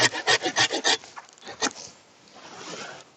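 A fruit tree branch is sawn through a few finger-widths above a graft, giving a burst of about six rapid rasping strokes, then a few more scattered strokes, close and fairly loud, alone without talk.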